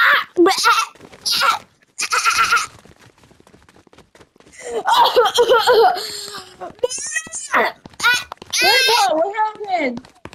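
A voice imitates a goat, giving several quavering bleats in short bursts separated by pauses, with some giggly vocal sounds mixed in near the microphone.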